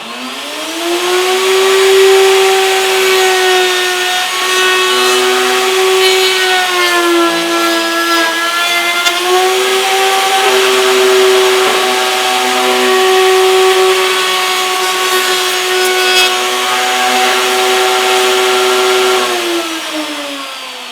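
A power tool rounds over the edge of a wooden beehive body, a loud, sustained whining roar lasting about twenty seconds whose pitch dips and rises slightly as the cutter moves along the wood before spinning down.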